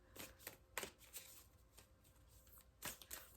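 Large, new, very thin tarot cards shuffled awkwardly by hand, with about five soft papery bursts at irregular intervals, close but quiet, and a faint hiss beneath them.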